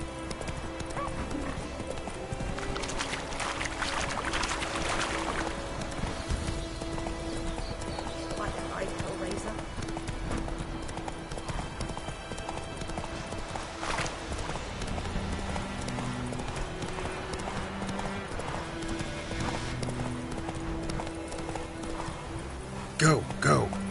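Hooves of a horse galloping in The Witcher 3 video game, with a steady clip-clop rhythm that runs throughout and a neigh along the way, under game sounds and spoken lines.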